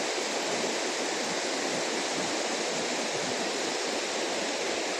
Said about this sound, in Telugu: చాలా పెద్దగానే ఉంది వాటర్ ఫాల్ ఇది